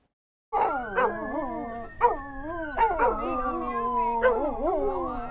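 Several dogs at an adoption event howl together in long, wavering, overlapping calls, broken by a few sharp barks and yips, loud and close with no talk.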